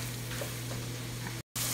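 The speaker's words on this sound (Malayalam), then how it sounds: "ഇനി ഇത് നന്നായി ഒന്ന് വഴറ്റിയെടുക്കണം." Onions sautéing in a pan for a Kerala-style beef dum biryani make a dense, steady sizzle with a low hum beneath, cut briefly by a moment of silence before resuming.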